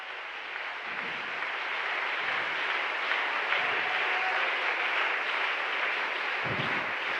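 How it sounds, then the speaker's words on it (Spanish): A church congregation applauds during a Spanish-language worship service, a steady, dense wash of clapping that fills a reverberant hall and holds at an even level throughout. "Regálele un aplauso al Señor."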